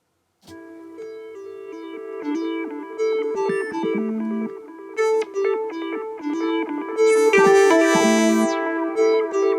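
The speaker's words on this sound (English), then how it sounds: "we are introducing some video game sounds from the MS-1 synthesizer" Bright synthesizer bleeps and arpeggiated tones in a chiptune video-game style from an MS-1 synthesizer, layered melodic notes with a high sweeping burst, loud and alone.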